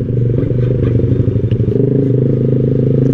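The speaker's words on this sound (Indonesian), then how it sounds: "knalpot aftermarket gitu, berisik sih, emang berisik sih" A motorcycle with a loud aftermarket exhaust, a deep, steady, rumbling idle with rattly low pulses, close and loud throughout.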